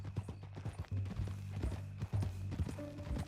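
A horse's hooves clip-clop at a steady walking rhythm in Red Dead Redemption 2, close and clear over a faint tonal background.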